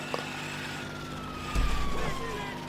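Police siren from a chase in the GTA Online video game, a wailing tone sliding downward over a steady vehicle engine drone, with a heavier rumble surging in partway through.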